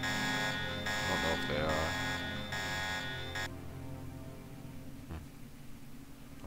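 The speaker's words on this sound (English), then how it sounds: "I'm glad alarms don't last too long in this game." Loud in-game alarm buzzing in Deus Ex, a steady harmonic tone with game music and someone talking over it, cutting off about halfway through and leaving quieter ambience and speech.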